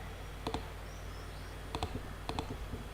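Three pairs of quick, sharp computer mouse clicks, close and fairly quiet, evenly spaced over a low steady room hum with no talking.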